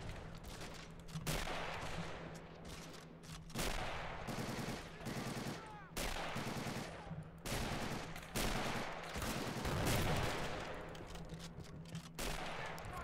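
Video game gunfire with the RobZ Realism Mod plays as repeated bursts of rapid automatic shots and sharp cracks, loud and dense across the stretch, with occasional voices faintly underneath.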